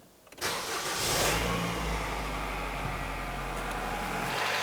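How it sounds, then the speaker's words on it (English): A 2007-2012 Nissan Versa engine cranks and catches after a valve cover replacement, then settles into a steady, close idle that continues to the end. "Now I can go ahead and start the vehicle."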